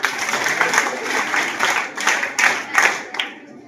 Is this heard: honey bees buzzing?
no